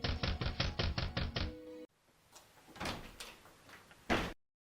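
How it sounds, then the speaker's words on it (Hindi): A door is knocked on and handled during a Christmas dance drama staged in a hall, with a quick run of loud, rhythmic knocks, then quieter rustling and scraping sounds, and finally a sharp bang as the door closes. "यूसुफ और मरियम वहां से आगे निकलकर अगले दरवाजे पर खटखटाते हैं।"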